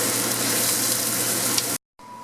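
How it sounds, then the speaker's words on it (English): Vegetables for butternut squash soup sautéing on a stovetop set to high heat, giving a dense, steady hiss of sizzling close up that cuts off abruptly near the end, then resumes more quietly after a brief silence. "I'm going to set the temperature of the stove on high and saute the vegetables"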